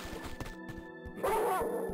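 Dogs bark in the video game Tomb Raider II Remastered, a run of short sharp yaps over the game's ambient score, followed by a louder crash-like burst near the end.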